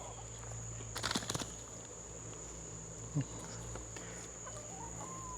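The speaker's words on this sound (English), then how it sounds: "We can give it to the chickens." Backyard hens being fed garden scraps give a few faint, scattered clucks over a steady outdoor hum of insects.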